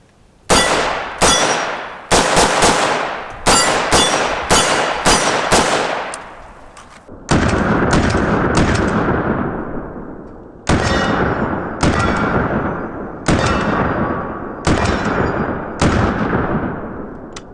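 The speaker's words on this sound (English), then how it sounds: "Let's shoot a few rounds out of this bad boy." AR-15 rifle firing 5.56 rounds outdoors, a series of loud sharp cracks: a quick burst of six or so shots with ringing decay, a pause, then five more spaced single shots, each close and punchy.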